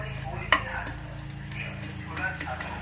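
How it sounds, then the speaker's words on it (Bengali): Two cinnamon sticks and three cardamom pods are stirred in a pan of refined oil and ghee: soft scraping and clicking strokes, one sharper knock, over a faint low sizzle. "আর দিয়ে দিলাম দুটো দারচিনি আর 1 2 3 তিনটে এলাচ। এগুলোকে সামান্য একটু নাড়িয়ে নেব"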